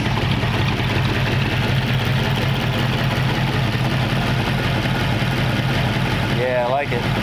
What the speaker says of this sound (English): Dual exhaust, nice cam sound to it.